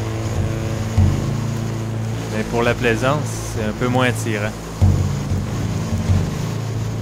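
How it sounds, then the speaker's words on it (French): Steady wind and surf roar on the open Gulf of St. Lawrence in a 20–25 knot blow, loud and constant around a sailboat, with someone speaking French over the rushing water throughout. "Ça fait des belles vagues pour le surf"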